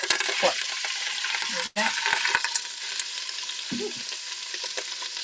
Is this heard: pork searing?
yes